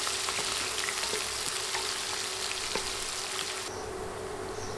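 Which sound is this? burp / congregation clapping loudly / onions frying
onions frying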